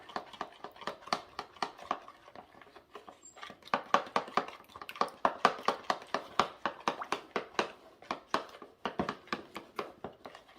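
A spoon or whisk stirs a steak marinade with pepper, honey and mustard in a bowl, giving a fast run of close, crisp tapping and scraping strokes with a brief pause early on.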